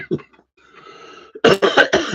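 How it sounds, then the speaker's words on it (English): A person coughs several times in quick succession, close and loud, after a short throaty sound. "I have to put up with my cough"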